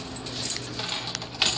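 A set of lab keys jingles and clinks in brief metallic rattles, close and fairly quiet, with no voices over them.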